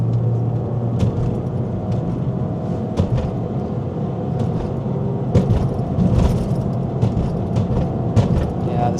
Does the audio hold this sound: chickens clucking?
no